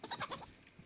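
A chicken in the video game DayZ gives a few quick, faint clucks early on, then fades into quiet background noise.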